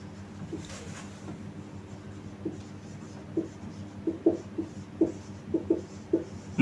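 A pen or marker writes out a math equation during a class lesson, producing faint, close scratching strokes and a cluster of light taps that grow more frequent toward the end over a low background hum.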